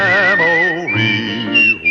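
A clear melodic whistle carries the tune of a western theme song, sustained sliding notes rising and falling over a soft musical backing, prominent and close.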